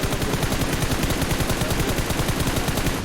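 Rapid, dense bursts of gunfire from the mobile game PUBG Mobile hammer on without pause, loud and close, with shots overlapping into a continuous automatic rattle.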